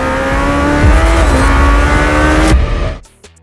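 A Lamborghini Temerario sports car, the Huracan's hybrid successor, revs loudly and close up, its engine note climbing in pitch with a rising whine. The sound cuts off sharply near the end, leaving brief scattered noises.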